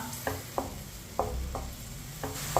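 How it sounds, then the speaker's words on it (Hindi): Raisins being stirred into semolina halwa on a low flame, a spoon scraping the pan in several distinct strokes over a soft sizzle, close by and without speech. "सौंगी को मैंने मिक्स कर लिया है"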